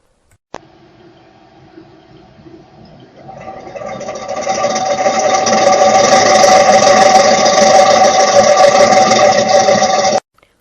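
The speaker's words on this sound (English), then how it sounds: "It is imperative that you hear rattling" Loud, steady rattling and grinding from a PM100 ball mill jar during a cryogenic yeast-cell disruption cycle: after a sharp click and quieter mechanical hum, the noise swells into a dense continuous clatter that holds for several seconds, then stops abruptly.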